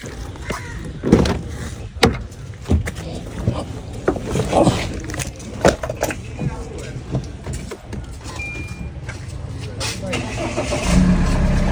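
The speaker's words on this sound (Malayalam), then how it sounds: "വണ്ടി സ്റ്റാർട്ടാക്കി ഒന്ന് നോക്കട്ടെ" A vehicle engine starts after sitting unused for a month, heard close and fairly quiet under steady conversation, with clicks and knocks before a rougher rising rumble toward the end.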